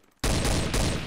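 A sudden burst of rapid gunfire in Garry's Mod cuts in after a short quiet moment, then stays loud and dense as overlapping shots run together to the end.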